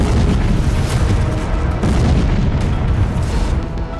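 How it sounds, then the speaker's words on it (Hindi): A Russian T-72B tank explodes after a drone grenade strike in a forest: a loud, sustained rumbling blast fills the whole stretch, deep low-end roar with crackling debris, no voices, steady and heavy throughout. "हमले में टैंक में जोरदार धमाका हुआ।"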